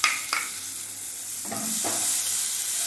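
Ginger garlic paste lands in a pan of frying onion masala for an ivy gourd fry, giving a soft hissing sizzle. A couple of clear spoon-stirring scrapes sit over the frying, close by, with no talking.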